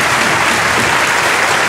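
Audience applause filling a conference hall at the closing session of FOSDEM 2014, a dense, steady clapping from a large crowd, loud and continuous throughout without speech.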